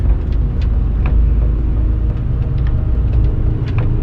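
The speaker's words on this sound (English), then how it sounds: "Got a car bloody blasting towards us" Car on a narrow green lane, heard from inside a vehicle, with a heavy low engine and road rumble that stays constant, while small knocks and rattles come through over it.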